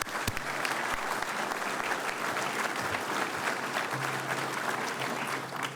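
Sustained applause from a room of people recognizing Alaska VFW members at a hearing, a dense steady wash of clapping throughout with a faint low hum joining near the end.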